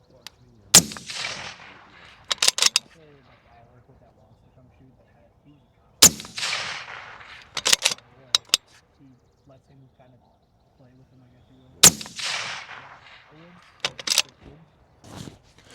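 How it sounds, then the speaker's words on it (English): Three sharp rifle shots crack out at clay targets at an outdoor range, evenly spaced several seconds apart, each followed by a short burst of echo, with quiet pauses between. "took 3 shots on that one to dust that clay"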